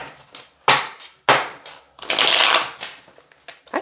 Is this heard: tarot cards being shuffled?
yes